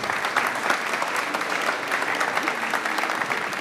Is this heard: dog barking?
no